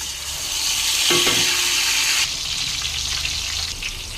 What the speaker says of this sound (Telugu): ఆయిల్ అయితే హీట్ అయిపోయింది ఇంకా ఉల్లిపాయ పేస్ట్ అయితే వేసేసుకుంటున్నాను